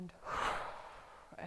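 Close deep inhalation during a guided massage, a single soft drawn breath rising and fading over about a second, alone.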